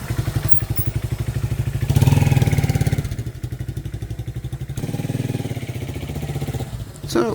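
A Kawasaki Z200 motorcycle pulls away, its old single-cylinder engine chugging with a rhythmic mid-pitched throb that swells as it accelerates, then settles into a steady putter, close and fairly loud.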